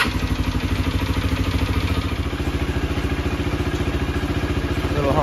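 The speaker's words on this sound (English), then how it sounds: "I'm just gonna run it and let the fuel drain out of the carburetor" A 2024 Honda XR150L single-cylinder motorcycle with a 222 big bore kit and modified exhaust idles with its fuel shut off, a loud, steady, rapid thumping chug close by throughout.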